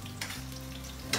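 Garlic sautéing in a pan, browning as it cooks, gives a steady close sizzle and frying hiss, with brief bursts of stirring or scraping near the start and again near the end.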